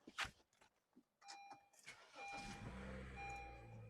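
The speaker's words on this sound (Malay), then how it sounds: "Lepas tu, start kereta." A car engine cranks and starts after its sensor was cleaned with WD-40, a few clicks and a brief whir, then it settles into a steady, quiet idle hum.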